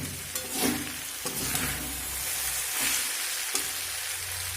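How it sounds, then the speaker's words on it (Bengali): Paneer chow mein noodles being stirred and fried with vegetables and sauce in a pan over high flame, producing a continuous sizzle broken by a few sharp spatula scrapes, close up with no talking. "এইভাবে নাড়ব আর অল্প অল্প করে চাউ দিয়ে মিশিয়ে নেব"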